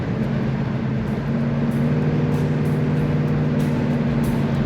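A 1971 Pontiac LeMans Sport Convertible accelerates steadily with the top down, its engine holding a strong, even low drone that rises slightly after about a second, close and loud throughout with no talk.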